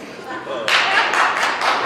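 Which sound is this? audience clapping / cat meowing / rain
audience clapping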